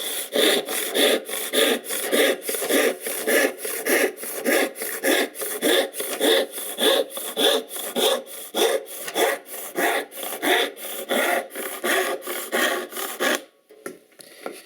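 Hand saw cutting through a pine board, steady close rasping strokes back and forth in a regular rhythm for about thirteen seconds before stopping abruptly; no voices.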